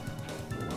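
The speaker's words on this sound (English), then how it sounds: "I know it's a zombie dog, and it has murderous intent, but I still don't like shooting dogs" A zombie dog in Resident Evil gives a couple of quick, close barks during a fight, short and sharp, with game noise underneath.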